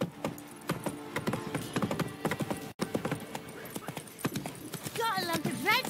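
A horse trots in The Witcher 3, its hooves clip-clopping in a quick, even rhythm close by, with a brief whinny near the end and people talking over it.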